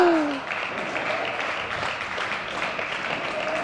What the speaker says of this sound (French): Applaudi d'ailleurs par son partenaire